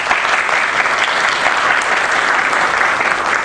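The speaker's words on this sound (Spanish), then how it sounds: "a quien saludamos con un fuerte aplauso." An audience at a Lima Bar Association ethics council session gives a strong, sustained round of applause for the presiding official, a thick, even roar of many hands clapping at close range with no break.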